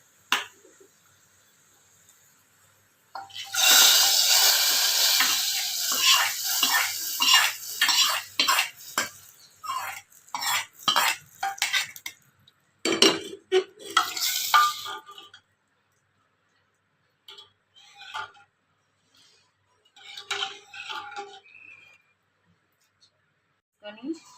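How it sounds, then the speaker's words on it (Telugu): A loud splash and sizzle as hot tempering hits a pot of dal, followed by clinking spoon stirring and scraping, with pauses and quiet stretches near the end. "గ్యాస్ ఆపేసి ఆ తాలింపుని పప్పులో వేసుకుందాం."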